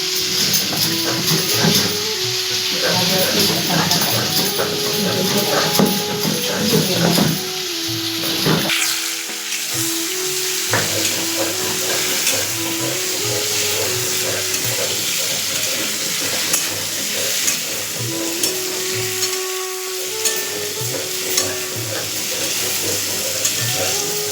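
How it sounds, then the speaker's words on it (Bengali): Potatoes and cauliflower fry in a pan with a steady, close sizzle that carries on throughout, over some background clatter and tonal household noise. "আলু আর ফুলকপিটা ভাজা হতে হতে আমি মশলাটা বেটে নিচ্ছি"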